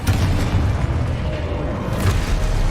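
A Confringo fire spell blasts in the video game Hogwarts Legacy, a loud, booming explosive roar that rumbles steadily for a few seconds with a slight swell near the end.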